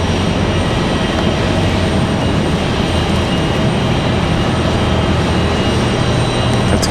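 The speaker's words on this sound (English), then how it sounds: "So Delta out at the end of the runway, getting ready to get a move on this." Delta flight 3245, a jet airliner bound for Atlanta, departs from the Raleigh Durham runway with a loud, steady, broadband engine roar that holds constant and close throughout, with no voices.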